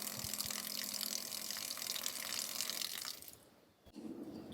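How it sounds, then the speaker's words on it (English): Water runs steadily from a 3D-printed cap on a Scepter water tank mounted on an overland Toyota 4Runner, a close, hissing flow for about three seconds before it cuts off, followed by a softer low rush. "Tap on it a couple times and all of a sudden you have running water."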